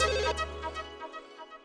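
A telephone rings during a call from a wife to her husband, a bright electronic ringtone with a steady low buzz that cuts off partway through while the tone fades out.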